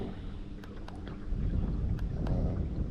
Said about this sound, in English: This wind makes it tough.